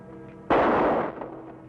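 A single loud gunshot from a handgun fired at a sign on a wall during a target-shooting bet in an old Western, a sharp blast with a booming tail that fades over about a second.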